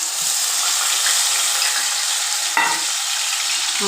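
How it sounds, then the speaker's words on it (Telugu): Ginger garlic paste fries in hot oil in a kadai on a gas stove, giving a loud, steady sizzling hiss throughout, with one brief clatter partway through and no talking. "ఈ ఆయిల్ బాగా ఈటెక్కింది ఇందులో అల్లం వెల్లుల్లి పేస్ట్"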